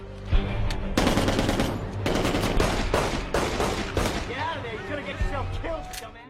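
Movie scene gunfire from a man shooting in anger at a range: rapid bursts of loud automatic shots with sharp reports and a couple of heavy thumps, followed by a voice speaking over fading echoes.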